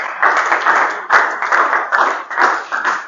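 A church congregation claps together in rhythmic bursts of applause, fairly close and loud, with no clear voices over it.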